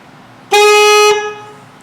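A saxophone note played with correct embouchure, a single clean tone held for just over half a second, loud and close, then fading out with no voices.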